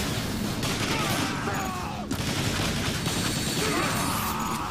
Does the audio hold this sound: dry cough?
no